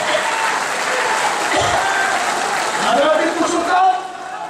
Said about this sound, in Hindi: जोरदार ताली के साथ उनको मुबारकबाद